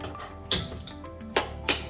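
Gas stove igniter clicking as a burner is switched on in a home kitchen, with four or five sharp, close clicks spaced irregularly over a faint steady hum, no speech.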